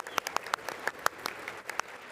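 Scattered applause in the chamber at Trump's 2025 joint address to Congress, sparse individual claps with a faint, distant quality.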